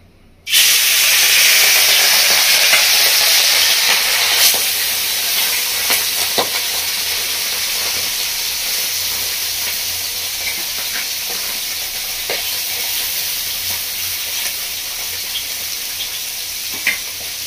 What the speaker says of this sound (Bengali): তেলের মধ্যে দেবো মাছগুলো।